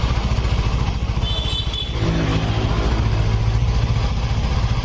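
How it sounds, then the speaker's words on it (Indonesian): A Yamaha Mio scooter engine idles steadily at normal rpm, close and fairly loud, with a constant even putter and no talk over it. "Putaran mesin sudah normal."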